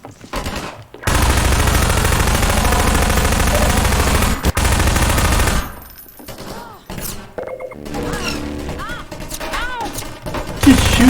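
Sustained heavy gunfire and combat din from Half-Life 2, loud and dense for several seconds, then breaking into scattered shots, game effects and tonal sounds as the fighting thins out.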